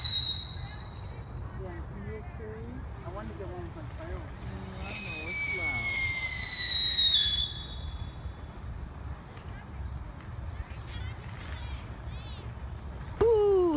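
Victoria Day weekend fireworks popping and whistling at a distance, a few rising whistles and scattered soft bursts over steady outdoor wind and background noise.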